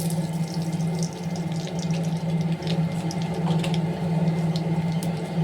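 Mustard seeds and urad dal sizzle in hot sesame oil, a steady, dense hiss that runs unbroken and fairly loud from start to finish.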